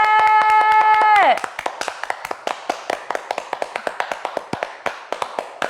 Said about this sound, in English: Do you think we went too long on the clap?